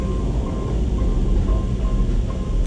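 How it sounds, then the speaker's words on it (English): A train ride in the video game Portal Stories: Mel gives a steady, continuous low rumble and rolling hum, even and unbroken throughout, with faint tonal whines above and no voices. "This is the longest train ride ever."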